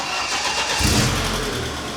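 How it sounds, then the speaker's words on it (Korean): A restored classic car with a four-cylinder engine cranks and catches, then settles into a rough, steady idle. The engine is close and loud, and no one speaks. "포실린더다 보니까 아무래도 엔진음은 거친데요"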